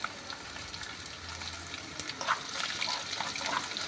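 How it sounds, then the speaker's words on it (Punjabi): Chopped garlic and ginger frying in a pan, being cooked light brown for a tomato chutney: a faint, steady sizzle with soft crackles and a few louder spits near the end. "ਲਸਣ ਅਦਰਕ ਨੂੰ ਵੀ ਜੀ ਆਪਾਂ ਨਾਲ ਹੀ ਪਕਾ ਲਾਂਗੇ ਬਰਾਊਨ ਜਿਹਾ ਕਰਨਾ"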